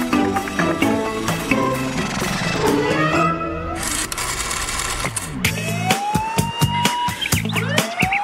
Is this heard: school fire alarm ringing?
yes